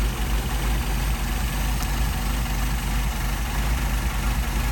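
A car engine with a Solex carburetor idles steadily while the idle mixture screw is adjusted, giving a continuous, loud, even low rumble close by with no talk.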